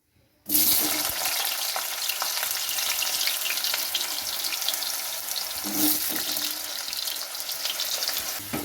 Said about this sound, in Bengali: এখন আলুগুলো দিয়ে দেবো। আলুগুলো ভালো করে সুন্দর করে ফ্রাই করে নিতে হবে, লাল লাল করে।